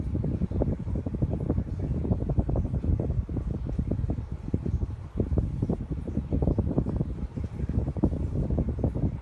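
A Hunter low profile ceiling fan with oak blades and a spot light kit runs on high, giving a steady low rumbling whoosh of moving air with fluttering buffets, close and moderately loud.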